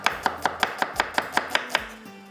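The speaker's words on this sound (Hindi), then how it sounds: "बारीक प्याज करके डालेंगे" A knife finely chopping onion on a board, about ten quick, evenly spaced crisp chops close by, then stopping, with no talk.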